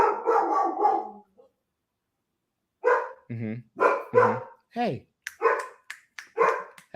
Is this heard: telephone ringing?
no